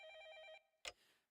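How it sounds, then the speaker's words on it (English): A telephone rings inside a house in the visual novel Fate/Stay Night: a repeating electronic bell tone, then a sharp click as it cuts off, fairly quiet and with no voices. "The ringing reaches my ear from elsewhere in the house."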